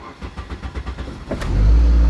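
An old Ford car engine is started: a run of rhythmic clicking and cranking, then it catches near the end and settles into a loud, close, steady low rumble, with no talk.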